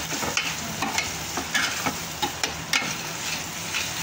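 Paneer masala gravy with cashew puree sautés in a pan, a steady close sizzle broken by repeated scraping stir strokes roughly every half second, with no voices.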